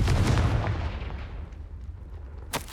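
A spell blast bursts in the Hogwarts Legacy video game, a loud, close, booming explosion that rolls off into a fading rumble, followed by a sharp crack near the end.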